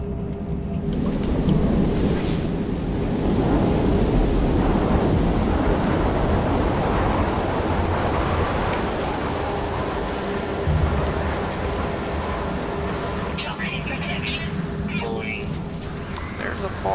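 Thunderstorm weather in the No Man's Sky game: steady heavy rain hiss with deep rolling thunder rumbles throughout, loud and continuous, with a brief clattering flutter near the end.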